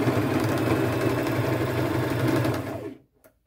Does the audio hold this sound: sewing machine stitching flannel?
yes